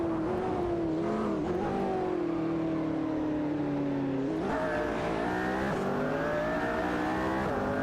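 Race cars in an AI racing video game hold a steady engine whine that rises and falls in pitch as they shift and overtake, with a second engine tone joining partway through. The sound is loud and continuous, with no talking.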